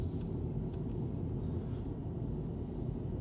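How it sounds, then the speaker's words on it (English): Heavy truck engine rumbling at a Poland–Lithuania border crossing, a steady low droning drone that stays constant throughout, with faint traffic noise above it and no voices. "you heard that truck was farting"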